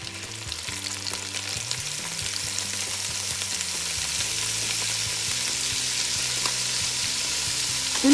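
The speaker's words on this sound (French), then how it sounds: "je retourne ma viande pour qu'elle soit dorée des deux côtés" Rabbit pieces brown in a frying pan for mustard rabbit, making a continuous close sizzle that thickens slightly over time, with a faint low hum beneath and a small knock at the very end.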